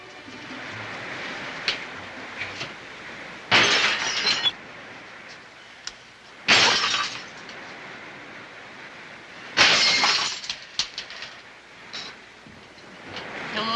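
Drinking glasses shatter in three separate loud crashes spaced a few seconds apart, each a sharp bright burst of breaking glass over a low background hum, with no talking.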